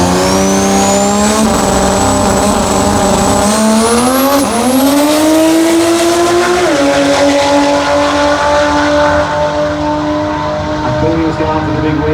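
Car doing a burnout at a burnout competition at the Garrett Brisbane Jamboree, engine screaming and climbing in pitch with tire squeal, loud and continuous throughout.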